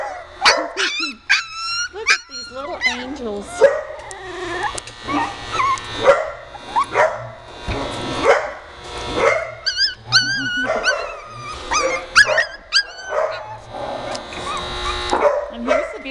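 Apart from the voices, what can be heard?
puppies barking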